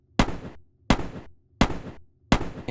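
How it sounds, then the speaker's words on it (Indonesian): Four loud gunshots ring out at an even pace, each a sharp crack with a short decaying tail and near silence between. "Lalu 4 tembakan pun terlihat di sana."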